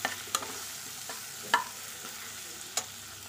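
Okra fries in a pan with a soft, steady sizzle, broken by a few sharp spatula scrapes and clacks as it is stirred at irregular intervals.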